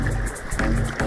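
A canoe runs the Buffalo River rapids, with loud rushing water and paddle splashes close by in a short, dense burst.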